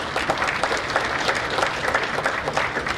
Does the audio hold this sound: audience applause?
yes